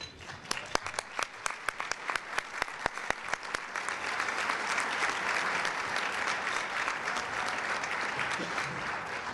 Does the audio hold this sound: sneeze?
no